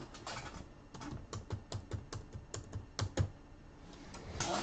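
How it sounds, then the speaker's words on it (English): Numbers are typed on a computer keyboard in a quiet room as a run of crisp, close key clicks in an uneven rhythm, with a few louder taps and a brief pause before a final burst. "I'm just typing in 1 through 8, hit random 1 time."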